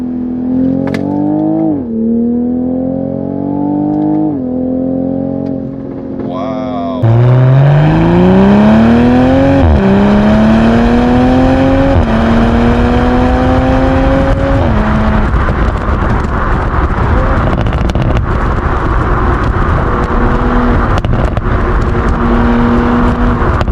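Sports car engine loudly revving in manual mode as it downshifts from fourth to third to second gear, each shift bringing a sharp jump in pitch, then a long climbing pull that settles into a steady roar.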